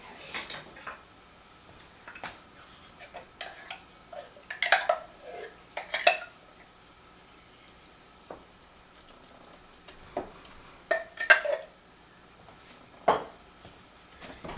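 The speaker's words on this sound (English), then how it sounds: "right now I'm just chopping up the pork roast into smaller pieces and warming it up." Pork roast being chopped into smaller pieces in a home kitchen while making tacos: scattered clinks and knocks of a utensil against a pan or dish come in irregular bursts, quiet and close, with faint background rustle.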